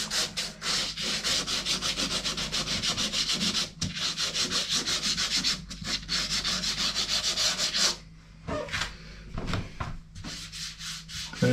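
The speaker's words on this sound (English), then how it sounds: "Just let the sandpaper do the work." Wall filler being sanded by hand with sandpaper: steady, close scratchy strokes in a continuous rhythm, briefly pausing near the end before resuming, with no talking.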